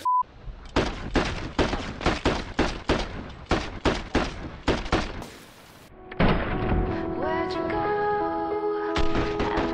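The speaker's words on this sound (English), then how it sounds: "Shotgun did nothing." Shotgun fire in the video game Vigor, a rapid series of around fifteen sharp, punchy blasts at a steady rhythm, loud and close, followed by a brief lull and then a rising swell of musical tones.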